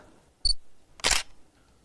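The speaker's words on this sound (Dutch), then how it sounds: "Overal waar Yvette haar camera richt, ziet ze wat moois" Two camera shutter clicks sound close and crisp while photographing a snowy winter estate at Landgoed Eikenstein, Maartensdijk; a short sharp click comes first and a louder, longer mechanical burst follows about half a second later, with quiet between.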